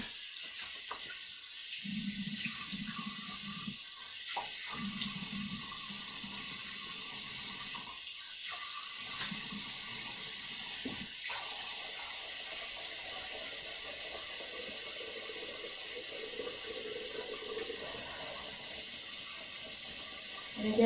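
Tap water running into a bathroom sink during face washing, a steady low splashing stream with a few brief pauses and shifts as hands move through it, moderately close and without talk.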